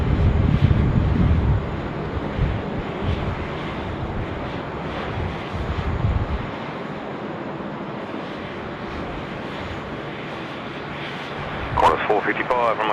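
A Qantas A330-200 airliner taxiing out at Sydney Airport, a steady jet engine drone and wind rumble, louder at first then settling into a quieter distant hum, with a voice talking over it.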